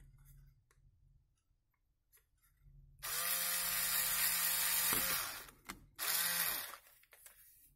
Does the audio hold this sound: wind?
no